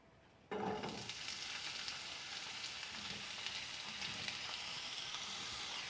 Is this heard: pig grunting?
no